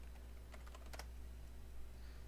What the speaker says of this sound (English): I don't know if you can hear how fast I'm typing.